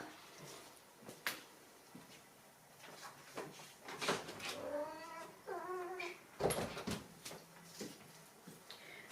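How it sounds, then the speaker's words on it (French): A house cat meows to be let back inside, a short run of insistent meows mid-clip between scattered clicks and knocks like a door or drawer moving, with no talking. "Alors les chats c'est ça, Vanille elle voulait sortir"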